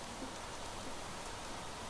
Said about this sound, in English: We have rain, ladies and gentlemen.